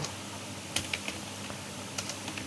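Keys tapped on a computer keyboard while entering data into Tally ERP9 accounting software, a few sparse clicks spread over a couple of seconds against a steady low background hum, fairly faint and with no voices.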